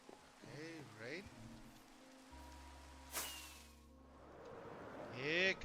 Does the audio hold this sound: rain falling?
yes